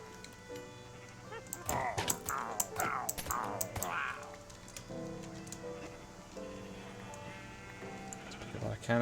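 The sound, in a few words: sheep bleating in Minecraft video game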